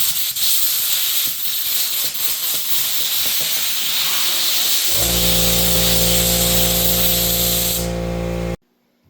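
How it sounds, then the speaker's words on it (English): Air compressor nozzle blasting dust out of a cracked wooden cabin table board, a loud close rushing hiss, joined midway by a steady low compressor drone that cuts off abruptly near the end. "And then I'll just take my air compressor,"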